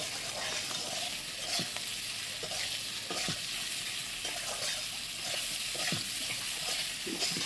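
Tangra fish tossed with salt and turmeric in a hot pan gives a steady sizzle, with repeated scraping stirs of the spatula throughout and no voices.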